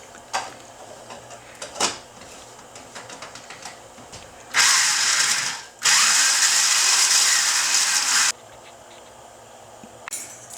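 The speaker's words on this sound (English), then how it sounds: "So we'll grind these up" Whole spices are ground in an electric grinder, which runs as a loud, harsh whir for nearly four seconds with a brief stop partway through. Quieter clicks and handling noises come before and after.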